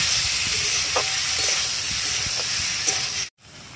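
Potol and paneer curry frying in a pan with spices, salt and sugar, a close, continuous sizzle with soft spatula scrapes and stirring taps before it cuts off abruptly.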